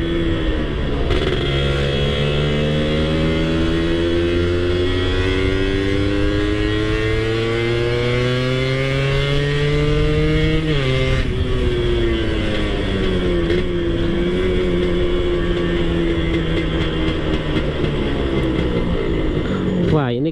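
A Suzuki Satria two-stroke motorcycle with a poorly running carburetor revs up through the gears while riding, its whine climbing steadily, dropping at a shift, then continuing loud and close throughout.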